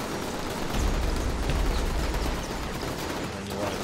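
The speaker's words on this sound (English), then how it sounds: "There's that machine gun." Sustained machine gun fire in the action game inFamous, a dense, loud, continuous clatter of rapid shots mixed with battle noise.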